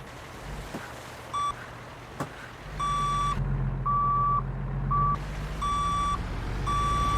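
A truck's old-school reversing beeper repeats a series of steady, clear tones over a low idling engine rumble, close and loud, with a few clicks before the beeping begins.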